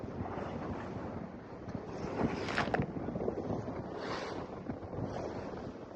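Steady, roaring wind buffets the microphone on a boat heading straight into the wind, with a broad rushing noise and gusts swelling midway, water faintly splashing beneath.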